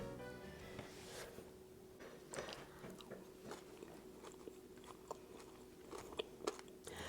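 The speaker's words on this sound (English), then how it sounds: "So the crunch you hear is the sanding sugar on the top." Close, crisp crunching from biting and chewing a king cake topped with sanding sugar, repeated bites crackling irregularly over a quiet background.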